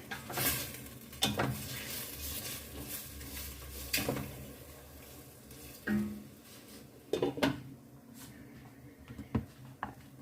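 Marinated mushrooms being stirred in a pot, with a few scattered clinks and scrapes of a utensil against the pot over a quiet kitchen background.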